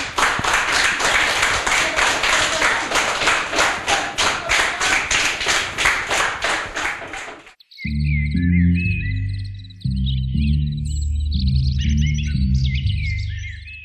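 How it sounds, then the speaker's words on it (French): Loud, dense applause from a school audience for a young reader's book presentation, rhythmic and sustained for about seven seconds before cutting off sharply into synthesized music. "On applaudit Soraya bien fort."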